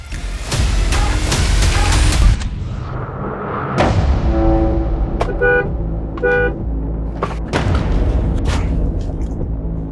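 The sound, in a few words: car horn honking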